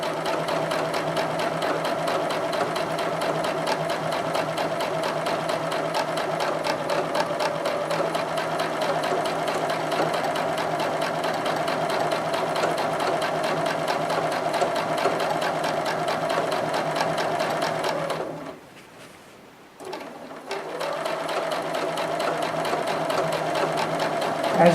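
Sewing machine quilting a quarter-circle curve on a grid-design quilt, running in a steady continuous whir at close range for most of the time, with a brief stop near the end before stitching resumes.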